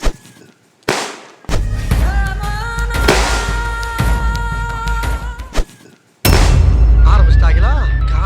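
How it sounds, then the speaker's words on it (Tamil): Diwali firecrackers burst in loud, sharp cracks and rapid crackling runs, with sudden blasts that cut in and out, while people talk over the noise nearby. "வெடிக்கலாம் ப்ரோ, வாங்க ப்ரோ, வெடி வெடிக்கலாம்"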